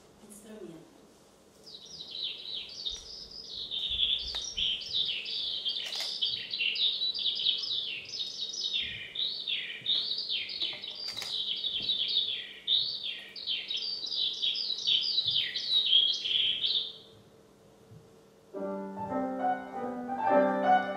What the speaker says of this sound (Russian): я бы очень хотела, чтобы услышали настоящее щебетание жаворонка